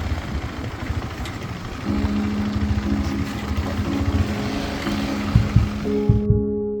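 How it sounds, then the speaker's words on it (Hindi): A motorbike rides off-road beside a lake, its engine rumbling steadily and rising in pitch midway. There is no talk. "और हम ऑफ रोड में बाइक चला रहे हैं"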